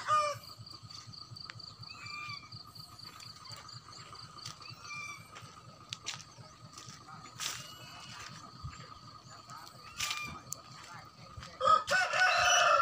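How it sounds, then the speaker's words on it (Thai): A Thai fighting rooster crows repeatedly in a rural farmyard in Udon Thani, loud and close, with chicken clucks and other birds around it and a steady background hum beneath. "เลี้ยงไก่ด้วยมีไก่ชนด้วยนี่เป็นไก่ชน"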